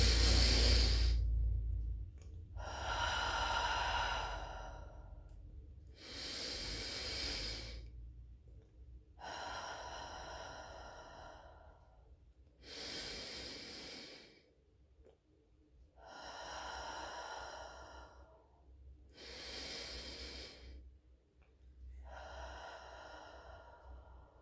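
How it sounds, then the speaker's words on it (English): Slow, deep breathing close to the microphone, about eight rhythmic cycles of long inhales and exhales, each breath a soft airy rush separated by brief quiet pauses. "What that does is it helps us take nice deep breaths"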